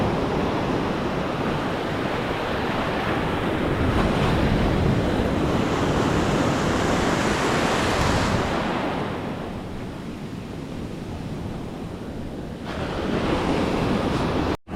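Ocean waves break on an early-morning Outer Banks beach, a loud continuous roar of surf with wind rushing over the microphone, swelling and easing slightly with no voices.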